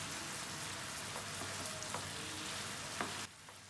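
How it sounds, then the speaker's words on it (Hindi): Chicken sizzles in a pan as cumin is stirred in for a restaurant-style tawa chicken cooked over high to medium flame, giving a steady, faint crackle with a few soft scrapes before the frying drops away at the end. "और हम मिक्स कर लेंगे ज़ीरे को चिकन में"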